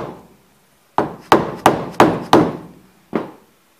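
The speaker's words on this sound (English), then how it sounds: "We'll use this dead blow hammer just to" A dead blow hammer taps chrome crash roll trim into place on a Jaguar XK120/XK140 roadster, six sharp, close, dull whacks in an uneven rhythm, each with a short decay, with no talking.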